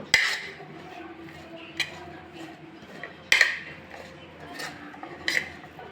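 Raw mango is mixed by hand in a bowl with salt and chilli powder, producing soft rubbing and stirring with a few sharp clinks of utensil against dish scattered through the mix.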